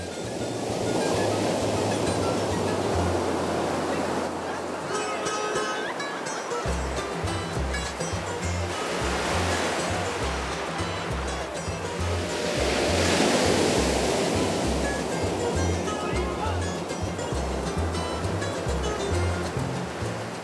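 Big ocean waves crash continuously along the coast of El Salvador, a heavy, roaring wash of surf that swells and recedes in long surges, loud and close, with a low rhythmic pulsing underneath.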